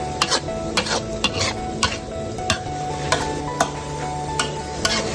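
Beef stir-fries with holy basil in a dry pan with no water. A utensil scrapes in regular strokes about every half second over a constant loud sizzle.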